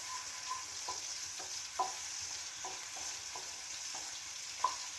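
Onions sizzle quietly in a little oil in a pan for fish curry, with a soft, steady frying hiss broken by a few light stirring clicks and scrapes.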